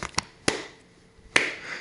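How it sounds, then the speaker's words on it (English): Hand claps during a standing calf-raise exercise: three sharp, separate claps spaced irregularly, the last one the loudest, with quiet gaps between them. "we can clap"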